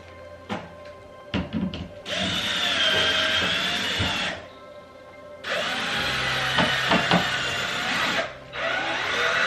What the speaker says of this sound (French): c'est du placo, je le visse vraiment avec des petites vis